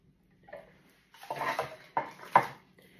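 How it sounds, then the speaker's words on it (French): Diced pears being mixed into batter in a plastic Tupperware pastry bowl, giving a few soft scraping, clattering stirs with short pauses between, close and fairly quiet. "les poires qu'on vient de couper dans le super dicer, hop, on les mélange à notre préparation"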